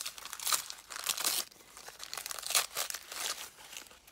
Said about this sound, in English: let's just rip into this